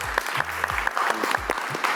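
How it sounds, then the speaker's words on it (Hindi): Audience applause for a daughter seated in the crowd at a candid conversation event, steady sustained clapping from many hands filling the whole stretch, fairly close and lively. "भाई बहुत सारी तालियां होनी चाहिए उसके लिए।"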